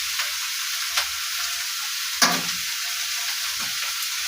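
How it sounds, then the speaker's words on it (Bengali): Chow mein noodles sizzle in oil in a pan, a steady close hiss with a few soft scraping clinks as they are stirred. "চাউমিনটা যাতে গায়ে গায়ে না লাগে, যার জন্য আমি কিছুটা তেল এর মধ্যে দিয়ে দিলাম।"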